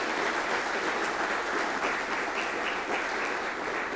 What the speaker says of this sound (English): I would like to just give a little round of applause for the whole organizing team for the Rust Reach